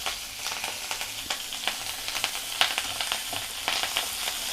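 Curry leaves and green chillies fry in hot oil, a dense crackling sizzle with sharp pops and spits scattered across it, close up and with no voices.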